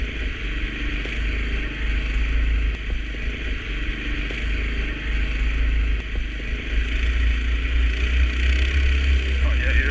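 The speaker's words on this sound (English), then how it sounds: "Yeah, yeah, mini bikes in the snow." Massimo mini bikes, an MB200S Mudstar and a Mini Baja, ride a snow track lined with Christmas lights, their small engines making a loud, steady drone that rises and falls slightly throughout.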